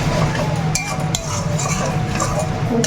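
Chicken sautéing in a pan with cumin and coriander, stirred with light metallic clinks and scrapes of a utensil against the pan over a steady sizzle.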